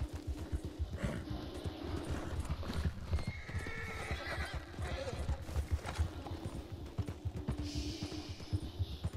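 Horse hooves galloping in Red Dead Redemption 2, a steady rapid clip-clop with occasional neighs and whinnies, low in level.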